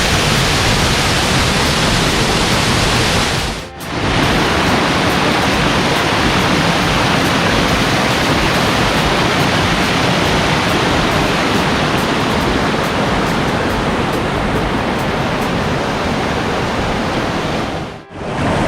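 Waterfall at Su Pisciale near Berchidda in Sardinia, a steady, loud, close roar of falling water that fills the whole clip without pause, with two very brief dips.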